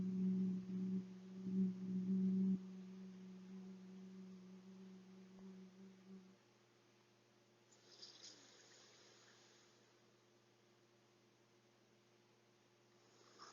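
A steady, low humming exhale during yoga breathing imitates a buzzing bee, loud at first and fading into a quieter drone before a soft breathy pause.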